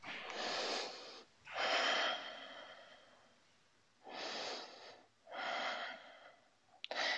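A person breathes slowly and deeply during a morning Pilates exercise with a chair, taking four or five long, audible breaths through the nose and mouth, close and fairly quiet, with short pauses between them.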